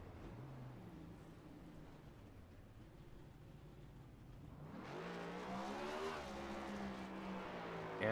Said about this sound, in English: And Rochelle with a celebratory burnout.